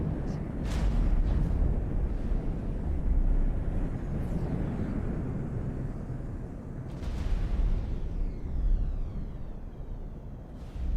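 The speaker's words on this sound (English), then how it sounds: "Explosion imminent." A loud explosion in the space game X4 booms with rumbling, sustained low roar and sharp bursts, filling the whole stretch with dense blast noise.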